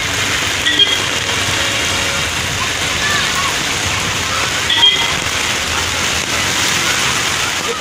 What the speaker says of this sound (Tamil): தொடர்ந்து மழை பெய்து வருகிறது